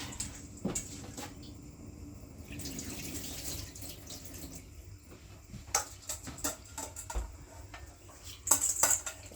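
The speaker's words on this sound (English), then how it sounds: "Let's drain the water off what's left." Water from a pot of cooked rice is drained off in a home kitchen, with a soft running pour and intermittent metallic clinks and clatters of the pot and utensils near a sink.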